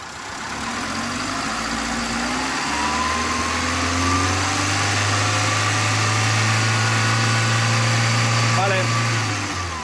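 A car engine idles steadily and close, then rises into a smooth, gentle rev under light throttle, holding a low drone throughout with a voice faintly present.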